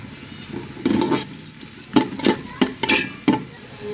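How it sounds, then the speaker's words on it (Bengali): Whole spices for khichuri are stirred and fried in a pan, giving a low sizzle under repeated scraping strokes of a spoon. The stirs come in uneven bursts, close and moderately loud, with no speech. "ভালো করে নেড়ে ভেজে নেব এখন আমি গোটা মশলাগুলো দিয়ে দেবো"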